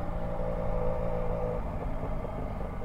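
Steady engine hum and road rumble from a motorcycle ridden on a road near Ilhéus, Bahia, continuous and fairly close with no talking.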